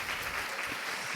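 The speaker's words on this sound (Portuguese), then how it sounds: "eu peço uma salva de palmas para vocês, professores" An audience of teachers at an education congress applauds, a soft, even wash of many hands clapping at a distance, steady and without speech.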